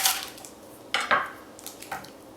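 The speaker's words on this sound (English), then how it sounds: "cut each quarter in half-inch slices right through the core" A knife slices a fennel bulb into half-inch pieces through the core on a cutting board, giving three or four quick, crisp knocks and cuts close by in a quiet kitchen, with no talking.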